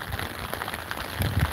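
Rain falls steadily during a storm chase, a dense, even patter on surfaces with a few louder drops near the end, and no voices.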